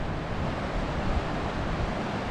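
Rushing river water churning over rocks where a side canyon enters, a steady broadband roar with no distinct breaks, close and fairly loud throughout.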